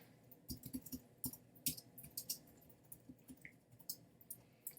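Faint, irregular keyboard typing on a computer while building something in Roblox Studio, with soft scattered clicks and short bursts of key taps spread across a quiet background.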